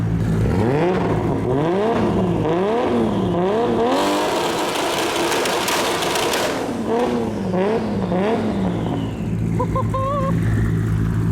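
A 1500HP 2JZ-powered Toyota Supra holds a loud, rhythmic two-step rev limiter, pulsing engine bursts repeating steadily at close range with a sustained drone beneath.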